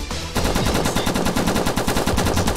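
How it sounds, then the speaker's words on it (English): Rapid automatic gunfire in the Roblox video game, a dense continuous stream of loud, evenly spaced shots that starts abruptly and keeps going for over two seconds. "Still a guy shooting at me."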